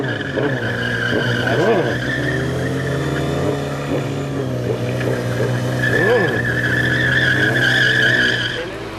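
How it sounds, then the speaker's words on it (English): A motorcycle does a burnout, its rear tire skidding and squealing against the pavement with a loud, continuous screech over a revving engine that rises and falls through the clip. "Show us some S burnouts"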